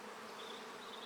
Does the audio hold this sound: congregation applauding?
no